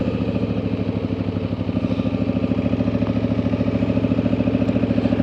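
Engine of an old Soviet-era, military-looking vehicle, roughly 70 years old, idling or running with a steady, loping low rumble and regular pulsing throb, close and continuous, without voices.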